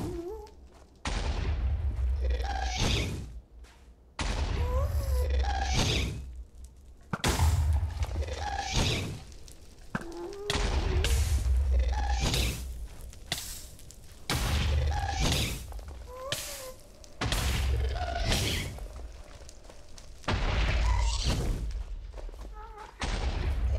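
Ghast fireballs explode again and again in the Minecraft nether, a string of close, punchy thuds and blasts spaced a second or two apart, with game noise between them.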